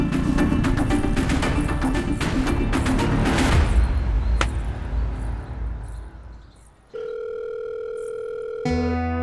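After a loud, clattering burst of noise fades out, a telephone ringback tone sounds steadily over the line, going on unanswered and then restarting.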